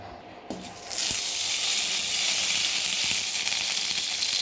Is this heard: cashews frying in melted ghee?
yes